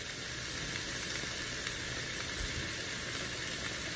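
Nopales cook with a splash of oil and a spoonful of salt, giving a steady, even sizzling hiss that holds at a moderate level throughout with no talking.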